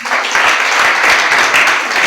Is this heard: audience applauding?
yes